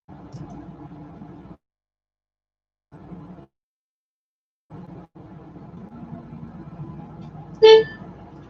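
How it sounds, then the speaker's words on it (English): A short, loud car horn honk sounds once near the end, after quiet engine-like hum that cuts in and out. "Sorry for the loud honk."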